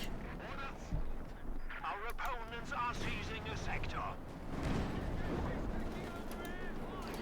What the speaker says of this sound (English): Panther running about here, being hit with the 6-pounder gun